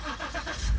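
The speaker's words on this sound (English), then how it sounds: "Car turned right on, no problems at all." A car engine catches and fires up right after a jump start, a brief, close burst of cranking that rises into a running engine.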